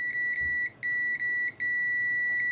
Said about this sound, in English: low impedance on my multimeter is under 50 ohms and it beeps